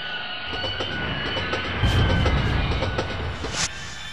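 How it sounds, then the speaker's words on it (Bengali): A train brakes hard, wheels squealing and screeching over a heavy rolling rumble and clatter of rail cars, loud and close with a sharper burst partway through, used as a horror-story effect. "হঠাৎ ট্রেনটা একটা জোরে ব্রেক করতেই চমকে উঠলাম"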